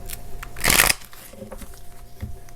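A Luna Tarot card deck being shuffled, one brief, loud riffle of cards near the middle, with quieter handling sounds before and after.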